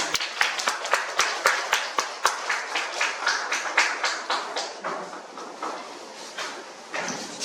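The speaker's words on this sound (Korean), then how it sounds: "앞서서 강의해주신 세 분을 위해서 다시 한번 박수 부탁드리겠습니다" An audience applauds after a health lecture for cancer patients at a hospital: sharp, evenly spaced claps at first, then a denser, steadier patter of many hands that thins slightly toward the end.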